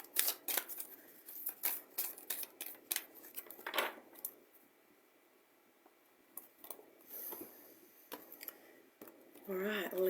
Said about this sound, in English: let's shuffle a little bit more